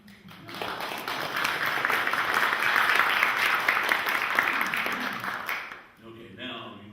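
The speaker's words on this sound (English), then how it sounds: "Give him some applause." Audience applause at a history talk on William F. Tolmie and Fort Nisqually, a steady dense clapping for about six seconds that fades out, followed by a voice starting to speak.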